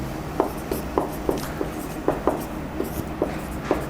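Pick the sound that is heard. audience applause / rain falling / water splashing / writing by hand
writing by hand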